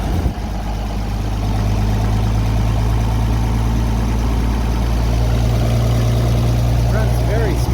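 An antique tractor engine idles steadily with a low, even chugging hum, close and loud, running smoothly throughout with some brief speech near the end.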